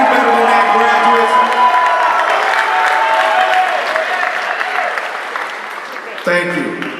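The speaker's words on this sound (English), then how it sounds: "So graduates, please give the individuals in the audience a round of applause." Loud, sustained applause from a large audience at a 2021 high school commencement ceremony in a performing arts center, with cheering and voices mixed in as the clapping slowly tapers off.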